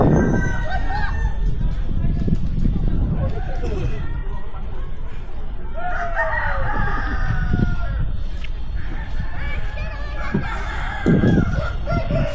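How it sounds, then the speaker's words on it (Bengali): Roosters crow repeatedly at chicken stalls in a roadside market near Tajpur beach, loud nearby calls over clucking hens and a busy murmur of voices. "সব দোকান থেকে এখানে মুরগি রাখছে।"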